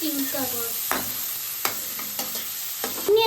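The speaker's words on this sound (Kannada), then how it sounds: "ಇವಾಗ ಕಡಾಯಿಗೆ ಸೋಟೆ ಮಾಡ್ಕೊತಾ ಇದ್ದೀನಿ" Onion and tomato sauté in a kadai with a soft continuous sizzle, punctuated by a few scraping stirs of a spoon; a faint voice is briefly audible at the start.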